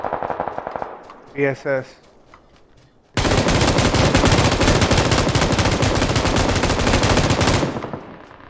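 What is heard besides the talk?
gunfire in a shooter video game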